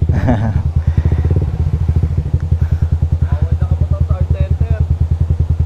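A motorcycle rides along with its engine close and loud, a steady pulsing putter throughout, and brief talk near the start.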